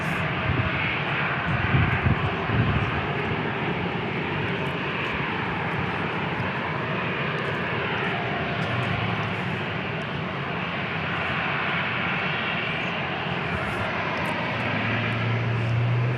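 An Alaska Airlines jet departs San Diego International Airport, its engine roar steady and moderately loud throughout, a continuous broad rumble with no voices over it.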